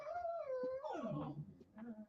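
Dogs whine and howl to be let outside, a wavering cry that slides downward, followed by softer whimpers close to the microphone.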